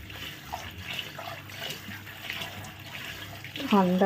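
Bottle gourd leaves are washed under running water, a steady splashing flow close by, with a voice briefly rising over it near the end.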